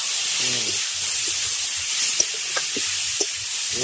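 Boiled ash gourd drops into garlic frying in a pan, setting off a steady, close hiss and sizzle with a few faint clicks and stirring sounds.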